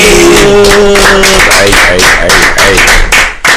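Audience clapping for comedian Tierra Brown at a Life is Dope podcast taping, a dense, loud burst of applause with scattered claps and some cheering voices, tapering off near the end.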